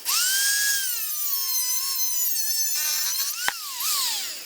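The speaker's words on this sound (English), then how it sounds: "I'm gonna grind it till it gets down to half" A bolt is ground down to shorten it, producing a high, whining grinder tone. The grinding holds steady and close, its pitch wavering with pressure, and a sharp click or snap comes partway through.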